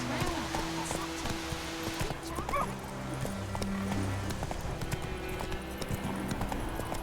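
In the Witcher 3 video game, a horse gallops with steady rhythmic hoofbeats under game music, while a rider's voice calls out commands.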